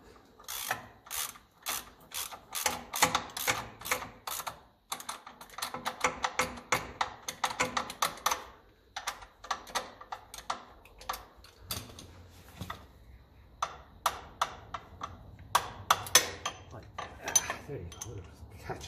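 A ratchet clicks in quick rapid bursts as bolts are tightened diagonally on a 1954 Ferguson TEF diesel tractor, with short pauses between runs and faint metallic knocks nearby.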